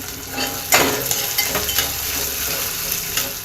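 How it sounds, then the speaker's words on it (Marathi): Chopped onion and green chilli sizzle steadily in a hot pan while cooking Marwari-style khichdi, with a sharper burst of stirring and spatula scrapes near the start and a continuous close frying hiss throughout. "कांदा टाकायचा आहे कांदा आणि हिरवी मिरची असे तुकडे करून घेतले"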